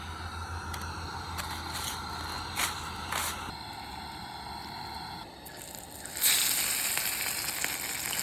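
Perch fillets sizzle steadily in a pan over a campfire during solo camping in Oregon, a continuous close crackle with a few brief louder spits and no talking.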